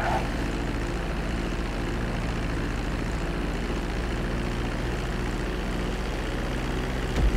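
A plane lands on a runway in GTA 5 with a continuous, loud engine drone that stays steady and unbroken throughout, and no talking.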